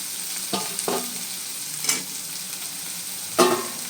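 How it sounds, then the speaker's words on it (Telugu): Sliced onions and drumstick pieces frying in hot oil in a pan, a steady close sizzle with a few distinct stirring scrapes of a spatula cutting through at intervals. "ఇప్పుడు ములక్కాయలు ఉన్నాయి కదా, ఉల్లిపాయలు వేగుతాయి. సో ములక్కాయలు వేసేసుకుందాము."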